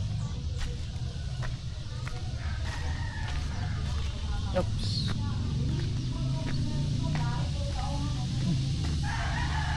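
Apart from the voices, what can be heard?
chickens and rooster crowing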